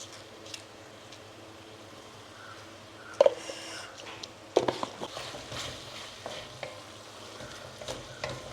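Liver fry with garam masala, fennel and pepper sizzles softly in a pan for a Kerala-style dish, with quiet frying hiss and a few sharp scraping stirs of a spoon.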